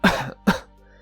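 Two harsh, wet coughs close together, loud and near, followed by a faint gasp; the coughing comes from Zhin, a wounded character coughing up blood.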